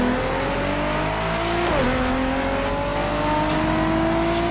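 Video game car racing in The Crew Motorfest: a high-revving engine under hard acceleration with wheelspin, pitch climbing steadily, dipping at a gear shift, then rising again, loud and continuous with no talking.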